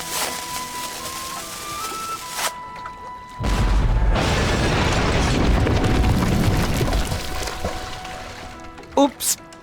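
A cannon fires in the adventure game Jack Keane 2 with a sudden loud boom. A long, heavy rumbling roar follows, preceded by quieter game sounds and a voice.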